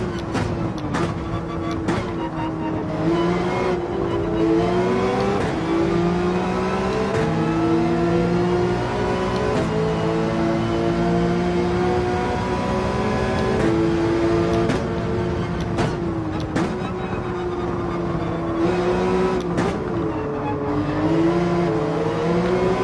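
Race car engines in Gran Turismo 7 drone and rev continuously on the last lap of a race, pitch rising and falling through gear changes at a loud, steady level.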